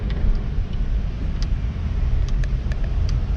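Steady road traffic along Quirino Highway in the early morning, a dense continuous low rumble of passing cars with a few faint higher squeaks and clinks scattered over it.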